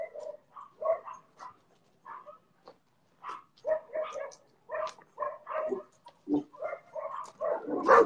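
A small puppy yaps in quick, close bursts, pausing briefly before starting again and growing busier toward the end.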